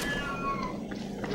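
A cat meows once, a short clear nasal cry set over a low game background hum in Battlefield 5.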